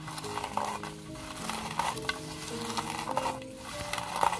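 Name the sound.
hand-mashing dried red chillies with salt for bhorta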